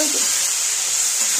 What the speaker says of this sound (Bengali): এবার আমি আলু বেগুনগুলো ভেজে নেব।